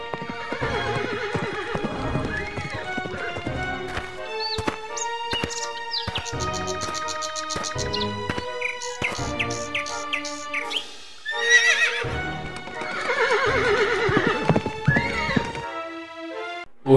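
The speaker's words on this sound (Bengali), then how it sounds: "ঘোড়ার আওয়াজ না, মনে হচ্ছে জমিদার বাবুর লোকজন নিয়ে ধাওয়া করেছে।" Cartoon horses gallop with steady clip-clop hoofbeats and loud, shrill neighs and whinnies, backed by a musical score in a Bengali folktale animation, with no voices.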